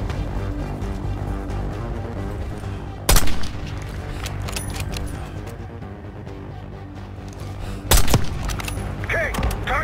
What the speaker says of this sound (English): Got mortar fire!